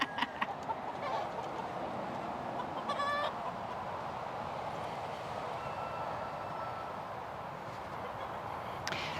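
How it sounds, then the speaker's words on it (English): Chickens cluck on a homestead amid a steady outdoor background, with a few brief, close clucks and squawks near the start, middle and end. "You guys are a bunch of chickens."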